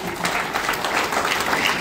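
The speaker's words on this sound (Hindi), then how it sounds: "एक बार जोरदार ताली हमारे शिक्षक जितने हैं" Seminar audience in Ranchi bursting into loud, sustained applause for the teachers, a dense wash of many hands clapping at once without speech.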